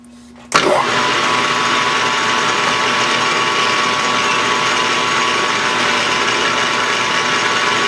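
A metal lathe starts up abruptly and settles into a steady, loud mechanical whir with a constant high whine, running continuously without pause while cutting metal.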